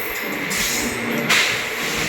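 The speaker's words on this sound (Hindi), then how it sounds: "चलिए अपनी ट्रेन ने भी स्पीड पकड़ ली है अच्छी खासी।" Passenger train on a Miraj–Hazrat Nizamuddin service, with steady rolling rumble and rail noise heard from inside a coach as it speeds up. No speech.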